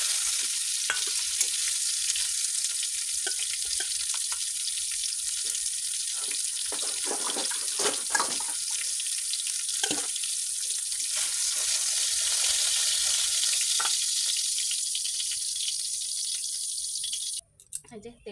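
Fish sizzling and frying in hot oil in a home kitchen, a steady bright crackle running throughout with occasional stirring clatter and faint talk in the background.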